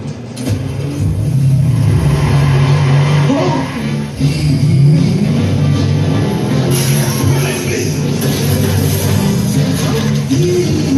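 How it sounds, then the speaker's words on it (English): Car engine in the open-world game Watch Dogs, a steady mid-pitched drone with rising and falling revs throughout, loud and continuous with a busy game-world background and possible faint voice. "We'll go over here and steal this car."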